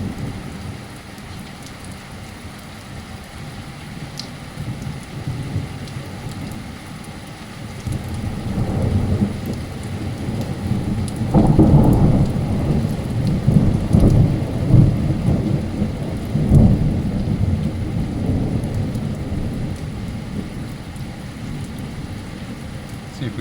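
Active thunderstorm over Anstey with a steady wash of heavy rain and hail, broken by several deep rolling thunder rumbles that swell in the middle and then ease.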